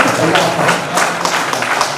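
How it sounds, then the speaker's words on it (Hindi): Loud applause from an audience at a Hindi poetry recital at a law college, a busy patter of clapping with a few cheering voices mixed in. "एक बार आप जरा जोरदार तालियां बजाएं।"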